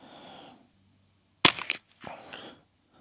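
A single sharp gunshot from a Bear Creek BC-201 firearm at an outdoor range, loud and close with a brief echo trailing off, followed by faint shuffling and handling noise.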